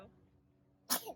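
A single sharp sneeze bursts out near the end of a quiet stretch, loud and close, followed by a brief tail.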